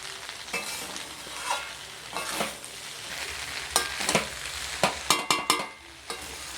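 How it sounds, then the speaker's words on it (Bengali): Pasta is stirred in a sizzling pan, with a spoon scraping and clattering against the metal in irregular strokes that cluster into several sharp knocks near the end, close and alone with no talking. "এবার মিক্স করে নেব ভালোভাবে।"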